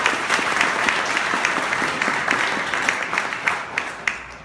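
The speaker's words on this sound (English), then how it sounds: "Let's give him a round of applause." An audience at a city's state of the city address applauds the police chief, dense hall clapping throughout, fairly loud and steady, with a few sharper claps near the end.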